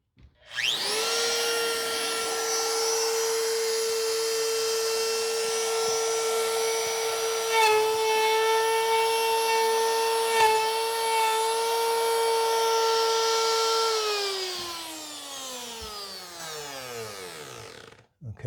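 Power tool spinning up and running steadily through a shallow cut in wood for a flush transition strip, a loud close whine with slight load dips, then winding down to a stop.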